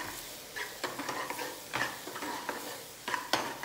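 Mutton pieces being sautéed with salt in a pan for a Guntur-style mutton fry: a steady close sizzle broken by repeated scraping stirs of a spatula against the pan, with no talking.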